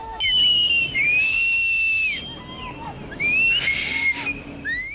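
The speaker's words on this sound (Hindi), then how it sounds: "जब बर्बादी की सुनामी धराली की ओर बढ़ रही थी तो धराली में लोग सीटी क्यों बजा रहे थे?" Loud, piercing whistles blown repeatedly by people in Dharali during a cloudburst disaster in Uttarkashi, sounding in long rising and falling blasts over a rumbling outdoor background.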